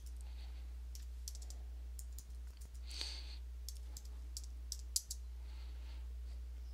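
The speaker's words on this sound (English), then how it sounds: "going to just go ahead and type in road to success" Keys clatter on a computer keyboard as a phrase is typed, a soft irregular run of close clicks over a steady low electrical hum.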